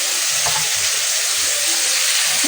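Egg cooking with potatoes in a hot pan, a continuous close sizzle and crackle of frying oil with faint low clinks of stirring underneath.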